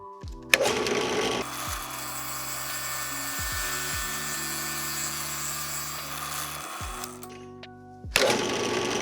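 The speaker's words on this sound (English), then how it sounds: "I'm going to be drilling 2 holes, with the first one being a bore hole that's just a little wider than the width of the bit, and to achieve this I'm going to be using a Forstner bit" A drill press bores a hole with a Forstner bit for a homemade wine and juice press, steady high whirring and cutting noise sustained for several seconds, motor spinning up at the start and winding down near the end, then restarting.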